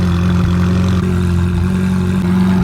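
A Ferrari fitted with an IPE aftermarket exhaust runs at a steady, loud, close drone, holding a strong low engine tone without big swings in revs.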